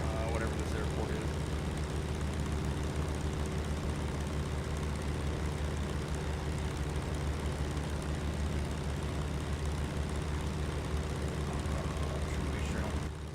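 A Citation X business jet in Microsoft Flight Simulator 2024 cruises over New Zealand on approach, its engines giving a steady, loud drone with a low rumble that holds throughout without pause.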